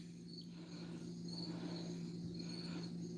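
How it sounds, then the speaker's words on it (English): Crickets chirp steadily at night in a quiet room, a continuous high trill pulsing in soft waves over a low steady hum, with no voices. "And you can hear crickets. They'll get louder soon."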